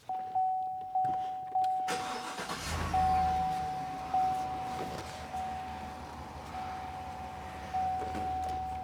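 A car engine starts and then idles steadily during front brake work while the steering wheel is turned, with a repeated beeping chime and a low hum, nearby and without talking.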